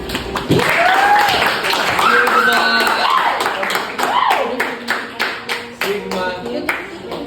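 A classroom audience applauds a student group after its presentation, clapping loudly over excited voices, then thinning to scattered separate claps near the end.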